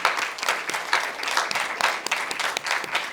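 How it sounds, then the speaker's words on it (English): An audience at a live premiere claps for the cast in a steady, fairly loud round of applause with rhythmic bursts, and nobody talks over it. "everyone just give a round of applause for this cast"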